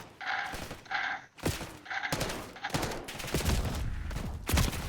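Rapid automatic gunfire rattles in Call of Duty Black Ops 6, coming in several close, loud bursts separated by brief gaps, with tonal game sound effects layered between the volleys.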